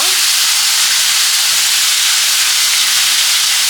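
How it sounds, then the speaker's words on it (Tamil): Onions and green chillies sauté in a pan, giving a loud, steady, close hiss that runs unbroken from start to finish with no voices. "வெங்காயம், பச்சை மிளகா எல்லாத்தையுமே நல்ல ஒரு 4-5 நிமிஷம் வதக்கி விடலாம்."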